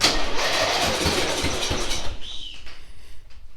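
A choked small engine on a homemade trackless train sputters loudly for about two seconds, then drops to a quieter, uneven running note.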